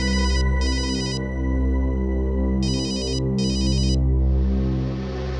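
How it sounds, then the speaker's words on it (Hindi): A phone ringtone chimes in short repeating bursts over a steady musical background, then a hiss of noise rises near the end. "किसका फोन है"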